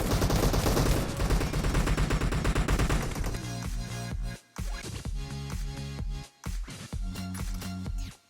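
Gunfire in a PUBG Mobile Team Deathmatch, with dense rapid shooting at first, then a string of loud, separate heavy shotgun blasts with short gaps between them, close and punchy.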